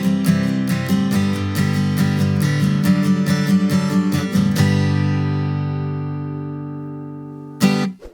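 Acoustic guitar strummed in soft sixteenth notes, played closer to the neck, giving a quick even chordal rhythm for about four and a half seconds before ringing out and decaying, followed by a brief final strum.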